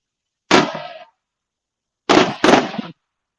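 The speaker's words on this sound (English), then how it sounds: "so this is just private fireworks, isn't it?" Large private mortar-shell fireworks go off outdoors as three sharp, loud booming bursts, one alone and then two in quick succession, with silence between.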